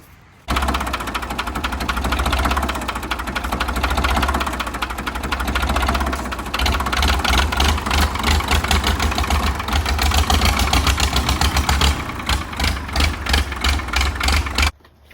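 An old tractor long left sitting in the woods cranks and catches, its engine running loud and close with a rough, knocking idle that surges in steady pulses for about fourteen seconds, with no talking.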